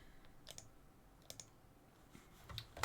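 Faint computer keyboard keys pressed during a digital illustration session, a few scattered sharp clicks in small clusters over a quiet background.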